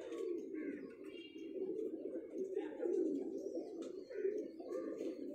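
Pigeons coo in a continuous low, warbling murmur, fairly close, with light chirps and a person talking over them.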